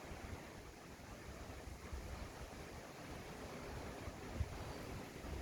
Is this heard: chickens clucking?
no